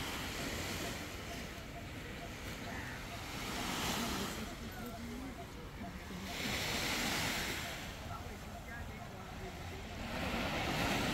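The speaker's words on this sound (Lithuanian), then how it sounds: "Tokia jūra." Surf rolls onto a beach at George Town, Malaysia, in steady broad washes that swell and recede every few seconds, with wind rumble throughout.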